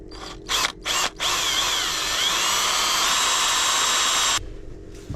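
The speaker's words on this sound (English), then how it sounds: "Get this drill." Power drill used in a woodturning workshop on a wooden Grinch snowman candle holder: a few short high whirring bursts, then one sustained loud spin of about three seconds that stops abruptly, close and without talk.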